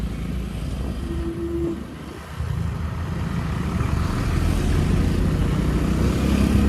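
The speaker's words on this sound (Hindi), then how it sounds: "बाइक आराम से चढ़ रही है" A 100cc motorcycle climbs a dusty, broken off-road mountain road on the Kedarnath to Badrinath route, its engine droning steadily and building in loudness as it pulls uphill, with no talking.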